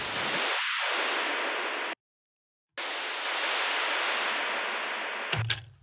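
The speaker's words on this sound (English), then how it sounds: "It's really the white noise frequencies we want here." A filtered white noise effect for a house music track, with the low end cut, sweeps as a loud steady hiss that drops out briefly, returns, and ends in a short crackling burst.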